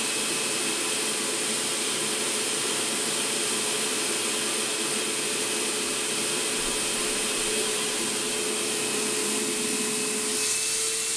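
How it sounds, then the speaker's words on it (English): A vacuum runs continuously in a workshop during the build of an Iron Man Mark V briefcase armour prop, a loud steady whine and rushing airflow with a slight shift in pitch near the end. "this time I'm going to turn the vacuum on before I run over"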